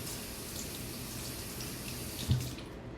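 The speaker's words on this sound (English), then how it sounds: "I just rinse my hands" Water running steadily from a kitchen tap while hands are rinsed, a soft continuous splashing with a brief louder splash near the end.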